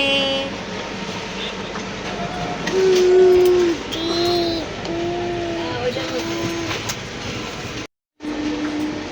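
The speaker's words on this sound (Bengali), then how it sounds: "ঝিকঝিক করতে করতে হাওড়া স্টেশন ছেড়ে আমাদের ট্রেন রওনা দিল হায়দ্রাবাদের উদ্দেশ্যে" A train rumbles and clatters as it pulls away from Howrah station, bound for Hyderabad, with horn-like tones and people talking nearby over the rolling noise.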